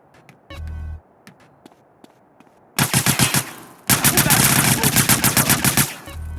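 Automatic gunfire in GTA San Andreas Definitive Edition, loud rapid bursts of shots that stop and restart, with a deep thud early on and scattered sharp impacts beforehand.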